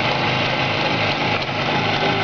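A Jawa 638 motorcycle engine, rebuilt with ground cylinders, new rings and its own ignition coil, runs at a steady idle with a continuous, even buzzing drone that stays loud and unbroken throughout.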